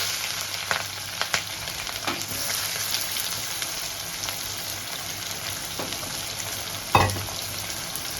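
Chopped onion and a green chilli fry in hot oil with a constant close crackle, broken by occasional spoon scrapes and one sharper clink near the end.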